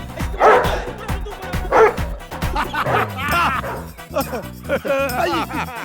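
A dog set loose in a Hindi comedy film scene barks and yips repeatedly in quick bursts, loud and close, mixed with whimpers and busy scene sound.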